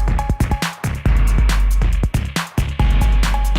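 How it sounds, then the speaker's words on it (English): A repeating electronic cowbell pattern rides on a loud, dense old-school electro beat, its short metallic tones ringing out over deep bass and punchy drum hits with steady rhythm. "It doesn't sound as modern with that cowbell going"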